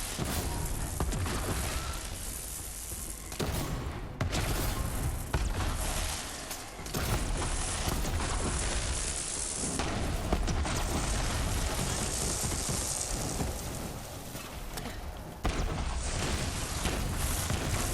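Repeated grenade explosions in Borderlands 3 on Mayhem 3, loud continuous blasts and whooshes layered densely, with brief dips between clusters of detonations.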